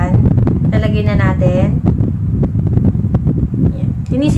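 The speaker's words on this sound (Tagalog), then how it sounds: "Naririnig niyo, maingay yung sa likod, yung sa electric fan." A room electric fan keeps up a constant breathy whoosh in the background, running without pause beneath a person talking close to the microphone.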